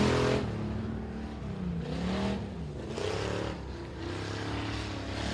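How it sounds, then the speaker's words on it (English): Ford Falcon race car on a dirt track during time trials at Boothill Speedway, its engine droning and rising in pitch across several revving passes at moderate distance. "I believe that's a Ford Falcon."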